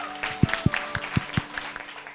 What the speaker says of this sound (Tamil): ப்ளீஸ், பெரிய கைத்தட்டல்கள் ஃபார் தெம்.